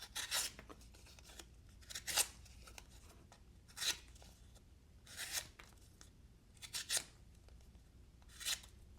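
Kizer Sheepdog C01c mini button lock knife with aluminium handle slicing cardboard, about eight short crisp scraping cuts at irregular intervals, close up and alone, with quiet pauses between them.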